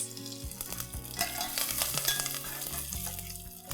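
Dry red chilies, hing and curry leaves crackle and sizzle in hot oil in a South Indian pepper rasam, a steady close frying hiss with sharp pops and spatters throughout, no voices.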